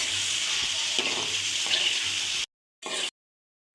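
Bitter gourd fry sizzles and bubbles in a pan, a steady close frying hiss with light stirring scrapes, then breaks off into short bursts separated by silence.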